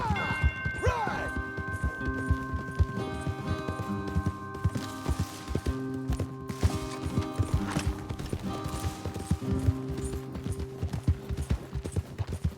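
Horses gallop in a PS5 video game, rapid hoofbeats pounding under a sustained musical score with occasional crashes and a brief whinny.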